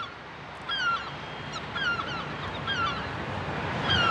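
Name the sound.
gulls calling at a rooftop nest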